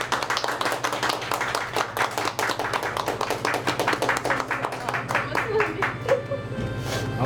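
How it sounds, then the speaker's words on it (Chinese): An audience claps in quick, regular close-up beats, a dense rhythmic patter that runs steadily for several seconds under faint background voices. "掌声鼓励"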